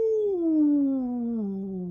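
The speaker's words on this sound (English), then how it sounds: "A howl echoed through the park." A single long howl echoing through a park, a clear tonal wail sliding slowly downward in pitch, close and prominent, heard alone without talk.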